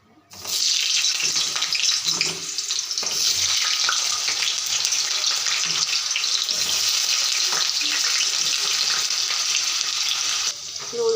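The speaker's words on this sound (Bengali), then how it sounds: "তেলটা গরম হয়েছে, এখন আলুগুলো ভেজে নেব আগে।" Potatoes hit hot mustard oil in a pan with an abrupt onset, then a loud, close, steady sizzle and hiss that holds for about ten seconds, with faint stirring and low murmurs underneath.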